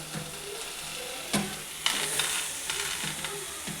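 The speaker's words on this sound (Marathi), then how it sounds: "पहिलं गवार भाजून घ्यायची" Cluster beans (gavar) dry-roasting in a pan, a low sizzle broken by spatula scrapes and a couple of sharp knocks against the pan, close by.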